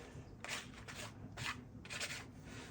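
A worn, frayed paintbrush scrapes paint across paper in several short dry rasping strokes, close and fairly quiet, with brief pauses between passes.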